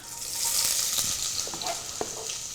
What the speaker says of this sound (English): Nice sizzle when it goes in.